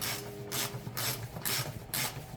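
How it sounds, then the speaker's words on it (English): A ratchet wrench loosens a stubborn, badly worn oil drain plug on a 6.0 Power Stroke diesel engine, giving five regular rasping clicking strokes at close range with short pauses between them, with no talking. "If you have to ratchet your drain plug out this much, you got a serious problem."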